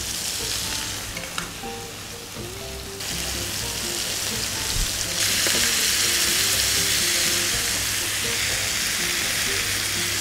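Bacon sizzles loudly in a hot pan, a close, crackling hiss with occasional scrapes and stirring clatter, growing fuller and louder partway through.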